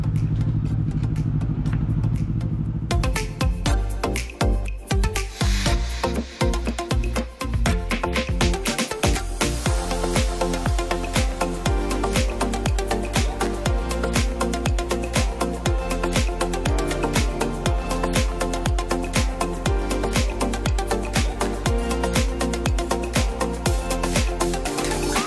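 Motorcycles on a Sunday group ride heading toward Langs Beach, a loud steady engine drone with rattling clatter throughout, the note rising and falling as the bikes rev and roll on, with no talk.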